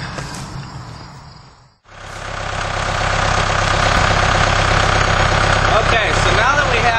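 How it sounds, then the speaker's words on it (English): Tractor with a tiller attached, its engine starting up after a brief break and settling into a loud, steady, rumbling run close by. "now that we have the tiller attached to the tractor, everything's good to go"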